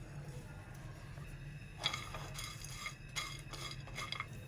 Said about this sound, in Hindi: नाजरीन ये हल्की आंच पे चारों चीज़ों को भून लेंगे।